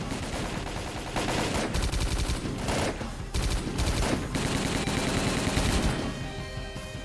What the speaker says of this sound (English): Let me use the big gun for a bit.